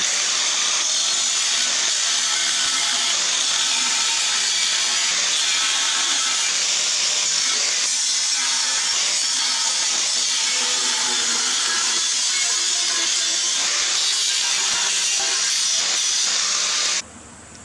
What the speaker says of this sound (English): it's now time to grab the grinder and cut out 2 little squares